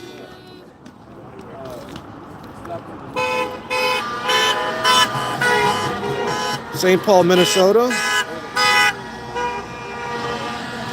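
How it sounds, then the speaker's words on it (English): Car horns honk repeatedly in short and long bursts from passing traffic in St. Paul, Minnesota, backing an East Side protest against ICE, loud and close over road noise while someone talks. "there's a lot of honking going on"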